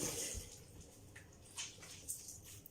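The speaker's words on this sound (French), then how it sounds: "je vais prendre mon petit tissu pour me rincer le visage" Water splashes and drips as a face is rinsed with a small cloth, soft wet sloshing and a few brief squishy bursts, close and quiet with no talking.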